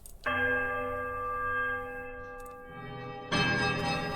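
A temple church bell in the video game Pillars of Eternity rings out with a long, clear, sustained tone that slowly fades, followed by a second bright strike near the end.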